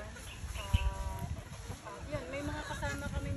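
Farm chickens cluck and chatter in a steady, overlapping stream close by, with short rising calls repeating, while someone talks over them.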